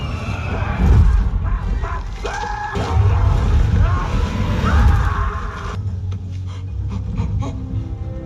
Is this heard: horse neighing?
yes